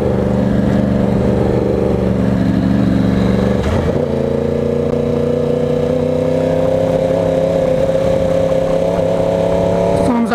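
A 2020 Yamaha R1 sport bike engine while riding, a loud steady drone that dips briefly as the rider shifts gears, then holds a rising, even pitch with wind rush.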